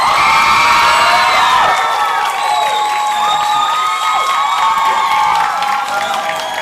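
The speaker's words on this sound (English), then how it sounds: "Ladies and gentlemen, by show of your applause" A theatre audience at a live musical parody cheers, whoops and claps loudly, with high-pitched shrieks and shouts riding over steady clapping for several seconds.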